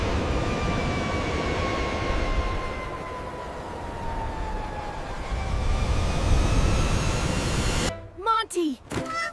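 A cartoon airplane with unsafe landing gear comes in for a crash landing, a loud sustained engine roar with a slowly falling whine that swells and fades, ending in sharp bursts of action sound.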